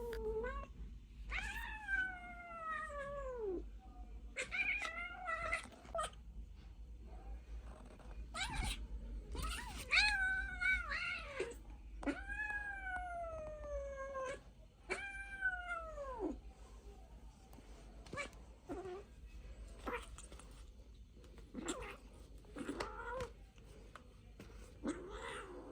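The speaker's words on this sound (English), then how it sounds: "the kitten is biting my hand and getting angry with me" Small injured kitten with a healing leg, angrily meowing and caterwauling in a series of drawn-out, rising and falling cries, close and loud, separated by short quiet pauses.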